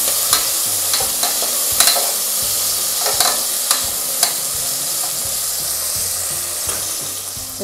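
Tomatoes sauté steadily in a hot pan for country chicken curry, with occasional sharp crackles and pops over the continuous frying hiss.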